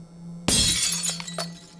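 An overhead light bulb bursts, a sharp sudden crack followed by a bright spray of shattering glass and a few tinkling fragments settling afterward over a low steady hum.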